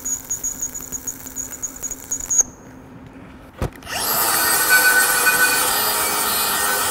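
SMAW stick welding on a 3G uphill test coupon with a backup strip. A crackling, buzzing hum breaks off, a sharp strike follows, then a steady loud hiss and sputter from the arc carries on close up.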